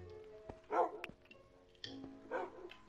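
A dog in the video game Minecraft gives a couple of short barks and yips, spaced about a second apart over faint background game sounds.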